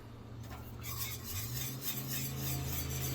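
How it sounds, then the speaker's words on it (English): Banana pudding mixture with kiwi being stirred, a spoon scraping and clinking against the bowl in a steady close rhythm over a low background hum, with no talk. "You just stir that right on in there."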